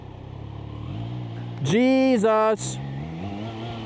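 A Triumph Trident 660 motorcycle engine idles low during a ride in a storm, then revs sharply in a loud rising-and-falling burst before settling back, with a rider's voice briefly heard.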